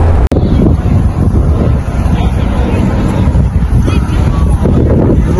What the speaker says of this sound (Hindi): ठंड हवा चल रही है, अच्छा मौसम है